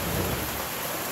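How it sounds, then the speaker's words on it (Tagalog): Heavy rain pours with a deep rumble of thunder on a mountain trail on Mindoro Island, Philippines, a loud dense wash of sound filling the brief moment; no voices. "inabot na kami ng ulan dito, kaya mag-aantay na lang kami na humina yung ulan"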